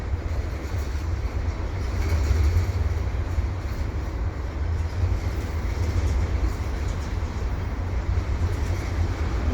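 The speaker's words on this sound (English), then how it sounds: "You'll have an EXO train coming around the bend here." An EXO commuter train rolls around a bend at Dorval, a continuous deep rumble with a broad, even roar that stays steady throughout.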